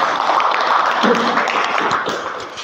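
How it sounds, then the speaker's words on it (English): Steady crowd applause fills the whole stretch, a dense wash of clapping that holds level throughout with no voices standing out. "Can you please give a applause for me?"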